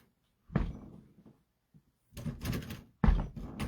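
A stubborn door forced open, heard as a heavy thump and rattling scrape, then a long grinding push and another hard thud, all close and loud with no talking.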